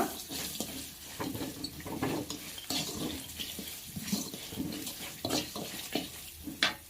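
A tempering with asafoetida for lemon pulihora frying in a pan: a soft sizzle under repeated clinks and scrapes of a spoon against the metal, close and moderately quiet, with no talking.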